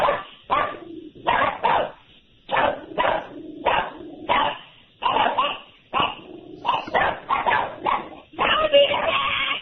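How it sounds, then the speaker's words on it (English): A dog barks and yips repeatedly in an irregular run of barks, heard over a narrow, phone-like line. Some whimpering sounds mix in, and people are talking at the same time. "I think that's a bark."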